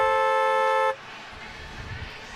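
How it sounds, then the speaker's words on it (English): A loud, steady car horn blast holds for almost a second, then cuts off abruptly, leaving crowd and broadcast room noise during a CFL football broadcast of the BC Lions against the Saskatchewan Roughriders. "Get ready to honk your horn in 3,"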